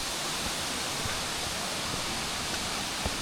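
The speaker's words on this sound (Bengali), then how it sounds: "আর এই দেখো এই যে উপর থেকে যে জলটা পড়ছে এটাই ছাঙ্গে ওয়াটারফলস।" Changey Waterfalls near Kalimpong pours down in a steady, dense roar of falling water, a continuous broadband rush heard close with no pauses and no talking.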